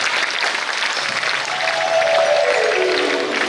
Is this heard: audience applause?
yes